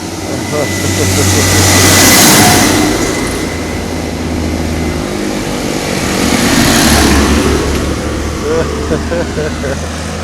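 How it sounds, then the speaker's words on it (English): A heavy tractor engine rumbles as the tractor passes at speed on a rural road on the Isle of Arran, loudness swelling twice across the stretch, under strong wind noise. "Tractor coming along there at quite a speed."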